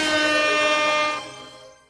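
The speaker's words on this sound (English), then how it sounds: "Thank you for the air horn." A single loud, harmonic air horn blast sounds at a wrestling event and trails off over about two seconds.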